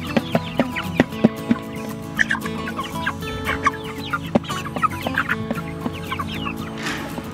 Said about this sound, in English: Our future egg layer pullets are doing an awesome job at eating that grass for us.